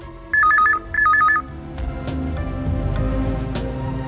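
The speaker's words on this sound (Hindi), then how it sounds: "अभी आपके ऑफिस में जो घंटी बजेगी वो फादर के फोन की घंटी है," An office telephone rings in two short trilling bursts, loud and close, then stops, leaving a low background hum with faint clicks.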